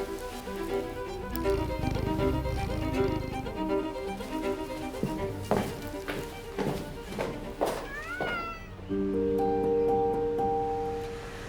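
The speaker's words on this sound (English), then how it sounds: "Mogra, my cat, is the only living creature I'm saying goodbye to" A pet cat meows a few times in an indoor setting, short rising and falling cries against a low background of music and ambient noise.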